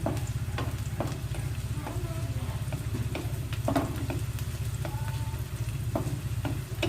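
Onions frying in a pan for a Filipino ginataan santol dish give a steady, close sizzle throughout, with scattered scraping taps of a utensil on the pan and no voices.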